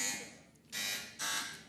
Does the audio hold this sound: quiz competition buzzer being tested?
yes